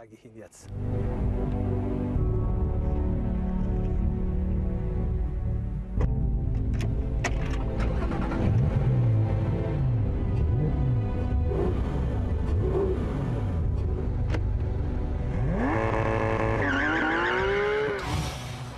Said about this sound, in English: takes the GT3 out onto the racetrack, where it's truly in its element